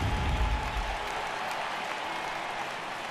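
A home crowd roars with sustained cheering and applause in an MLB The Show 18 baseball game between the Tampa Bay Rays and Detroit Tigers, loudest at the start and then holding steady as a broad wash of noise.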